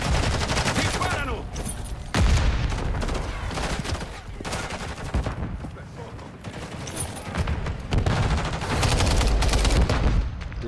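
Rapid bursts of Modern Warfare 3 gunfire crackle and boom in quick succession, loud and dense, with fast automatic volleys throughout.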